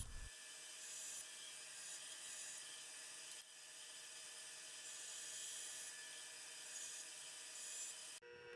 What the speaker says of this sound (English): Over at the bandsaw, I cut out 2 of these triangles